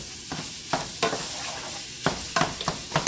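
Sausage browns in a pan, a constant sizzle broken by repeated scraping strokes of a utensil stirring the meat.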